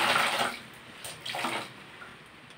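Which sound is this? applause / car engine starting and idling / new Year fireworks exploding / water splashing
water splashing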